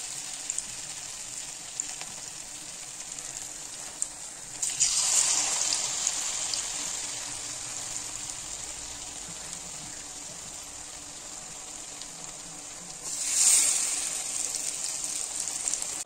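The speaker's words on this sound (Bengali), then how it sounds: "তেল গরম হয়ে গেছে, এখন একটা করে পুরগুলো ছেড়ে দেবো বেসনে চুবিয়ে" Besan-dipped stuffed kakrol sizzles in hot oil, a steady close frying hiss that swells into louder bursts twice as pieces drop into the pan.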